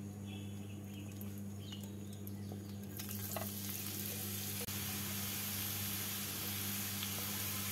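Grated carrots sizzle gently in hot ghee in a frying pan, a soft, steady hiss throughout with occasional stirring scrapes and one sharp click near the middle, no voices.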